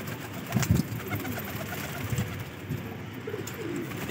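Pet pigeons coo from inside a cage, a steady run of low, throaty coos close by with soft rustling and a faint background hum, no talking.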